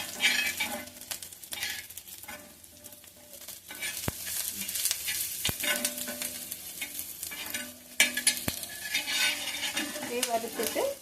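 Onions frying in a pan on a dosa tawa, stirred steadily with a utensil: a continuous sizzle with scraping and clinking strokes, sharp metal taps now and then, close up with no talk.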